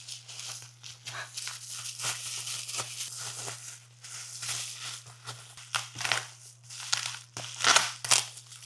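Plastic packaging for a set of Momo steering wheel screws is torn and crinkled open, a close, continuous run of crackling and ripping with sharper crunches toward the end, with a steady low hum underneath.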